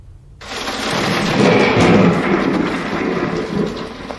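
A thunderstorm sound effect plays at a school play, a loud rolling rumble of thunder with rain-like hiss that swells and then sustains, heard alone without talk.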